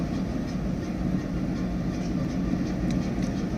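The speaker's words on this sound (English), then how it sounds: "Just sat in the sidings just next door to the platform one at Paignton is Mr. Sampson, Dart Rail, the gorgeous sounding D314." Dart Rail diesel locomotive D314 sits idling in the sidings at Paignton, producing a low, steady rumble that stays constant, with faint clicks and rattles in the background.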